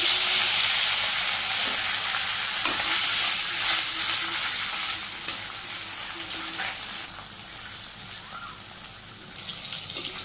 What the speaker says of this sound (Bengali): তেল গরম হয়ে গেছে মাছগুলো দিয়ে দিই